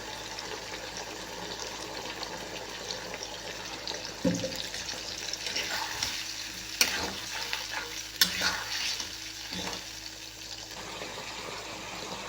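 Chili chicken tossed and stir-fried in a pan with chili sauce and soy sauce, a steady sizzle with scraping stirs and occasional clatters of the utensil against the pan.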